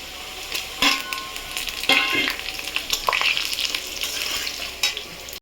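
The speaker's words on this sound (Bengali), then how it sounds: "দিয়ে এটাও আলুর সাথে ভেজে নেবো।" Dry red chilies, cumin seeds and bay leaves fry with potatoes in hot oil for khichuri, giving a steady close sizzle broken by a few sharp stirring scrapes and clinks of a spoon against the pan.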